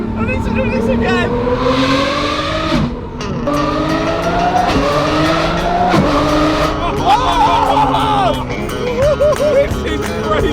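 A Lamborghini Revuelto sports car driven hard on an open road, its engine note rising and falling through rapid gear changes and revving, loud and close throughout.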